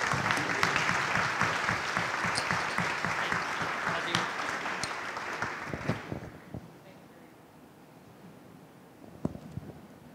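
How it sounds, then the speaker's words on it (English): Audience applause at a military garrison community update, a dense sustained clapping from a room of people that fades out after about six seconds, with a few scattered claps afterward. "let's give them a round of applause real quick"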